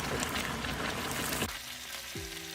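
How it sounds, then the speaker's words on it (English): Loud, dense sizzling of pork frying in a hot pan, easing to a softer crackle partway through. "I'm already putting them inside the frying pan."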